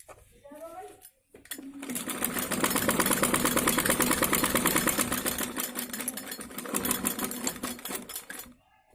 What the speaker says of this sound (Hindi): एक और सिलाई लगाएंगे इस पर